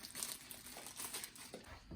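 Plastic bags crinkling and rustling in a kitchen while cooking deviled eggs, continuous close crackling handling noise with irregular sharper crunches.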